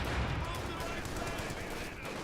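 A Wehrmacht sniper fires during a Company of Heroes 2 battle. The gunfire is loud and dense with a harsh, rattling texture, layered over busy background battle noise.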